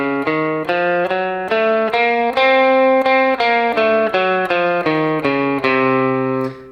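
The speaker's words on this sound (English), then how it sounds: "So the second mode of the harmonic minor scale is known as the Locrian 6th scale" Locrian natural 6th scale, the second mode of harmonic minor, picked on a distorted electric guitar, a steady run of about a dozen evenly spaced notes rising then falling, loud and clear with no talk.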